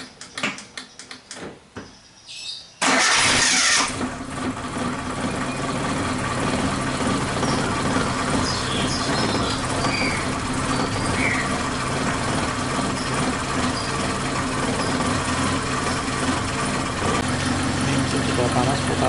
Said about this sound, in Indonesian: nyalakan mesin dulu